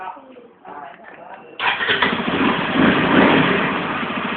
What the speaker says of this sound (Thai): แล้วก็สามารถสตาร์ทที่รีโมทได้นะครับ